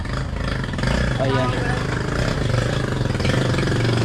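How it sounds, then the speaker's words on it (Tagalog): Motorized pedicab engine running steadily nearby, a continuous low mechanical drone with a slight rumble, heard under a person talking over it. "ang narinig yung tunog ng makina ng pedicab."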